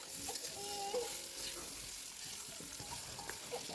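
Potato chunks coated with salt and turmeric frying in oil, a steady soft sizzle with faint clinks and stirring noises, heard up close at low volume.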